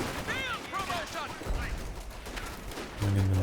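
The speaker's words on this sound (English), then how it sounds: "And then the major artillery there, clearing them out." Major artillery barrage in the real-time strategy game Company of Heroes 2, booming explosions and rumbling impacts mixed with battle noise under someone talking over the action.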